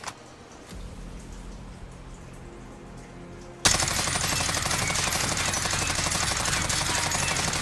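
Automatic rifle fire with an SFOD speed grip attached in Call of Duty: Warzone. A quiet hum gives way to a sudden, loud, sustained stream of rapid shots that continues steadily to the end.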